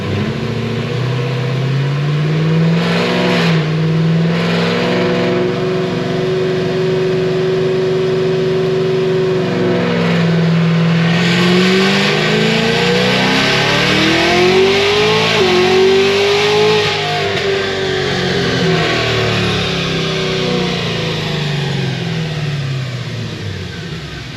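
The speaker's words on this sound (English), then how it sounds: "Let's see if this will even hold fourth gear." Supercharged Cadillac CTS-V making about 1100 horsepower, fitted with a Magnuson 2650 blower, pulls hard in fourth gear, its engine note climbing loud and close with a steady whine before easing off near the end.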